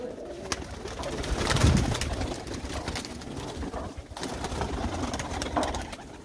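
Racing pigeons coo continuously nearby in a low, throaty murmur, several birds overlapping, with faint clicks and rustles in the background.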